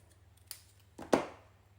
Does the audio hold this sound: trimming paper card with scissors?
yes